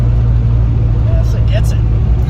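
A 1993 Ford Mustang Cobra pulls hard through first and second gear, a loud, steady engine drone that stays near and constant throughout, with a faint voice briefly audible over it.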